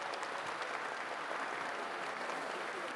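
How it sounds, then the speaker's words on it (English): Steady applause from an audience at a campus ceremony for a cancer awareness marathon, with a dense wash of many hands clapping continuously and evenly, fairly distant, with no talk over it. "Can we have a round of applause for her,"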